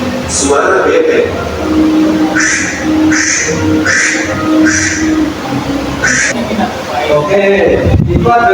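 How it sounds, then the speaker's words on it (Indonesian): A duck quacks in a short series of nasal calls, fairly close, with faint background noise and murmuring. "Suara bebek."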